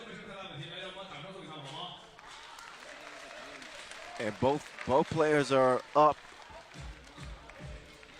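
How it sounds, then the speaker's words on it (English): Crowd applause at a 3x3 basketball quarter-final in Chengdu, a broad, steady wash of clapping from the stands with an announcer speaking over it and a few louder bursts near the middle. "And they get some applause from the crowd."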